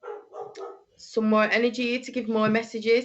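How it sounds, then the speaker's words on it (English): A dog barks and yips repeatedly in a steady run of loud, close calls, starting after a moment of speech and carrying on over it, with a person talking throughout. "I'm sorry about my dog barking."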